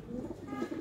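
Golden pigeon with ringed eyes, one wing white and one black, cooing in low steady murmurs close by, a continuous soft throaty burble with no talk.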